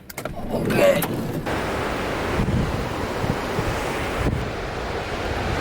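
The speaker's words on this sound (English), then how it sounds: "Let's check out the surf here in Byron Bay" Ocean surf rolls in at Byron Bay as a steady broad wash of waves, with wind buffeting the microphone and no clear talking.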